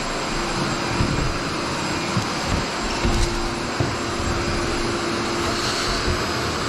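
A homemade dust extraction vacuum hooked to a concrete floor grinder runs as a loud, steady, unbroken roar, with only faint bumps in level throughout.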